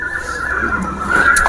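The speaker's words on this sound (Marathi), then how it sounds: "एक नंबर क्वालिटीचा घोडा आहे हा" A horse whinnies loudly at the Yeola horse market, a long, strained neigh close by that rises toward the end, with faint market bustle behind it.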